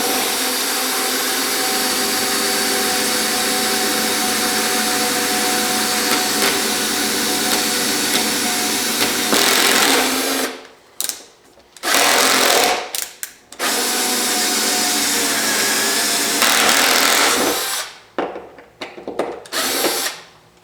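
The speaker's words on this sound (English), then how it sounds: "you basically just drill through the center until the top comes off" Power drill boring out rivets on a car's trunk glovebox trim panel, a loud continuous whine for about ten seconds, then several short bursts with brief pauses between them.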